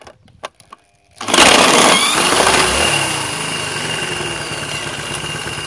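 A scooter engine without clutch or belt sputters with a few short clicks, then catches and roars up, settling into a loud, steady buzzing idle close by.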